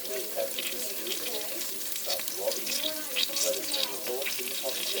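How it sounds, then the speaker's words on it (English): Jalapeno poppers broiling in an air fryer microwave oven, giving a soft, steady sizzle heard under a person talking throughout. "Listen to that frickin' sizzle"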